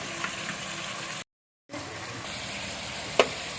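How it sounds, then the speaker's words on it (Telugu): Chicken pieces fry in a hot pan with a steady, close sizzle, broken by a brief dropout partway through and a small spitting pop near the end. "చికెన్ వేస్తామండి మరి ఫ్రై అవుతుంది"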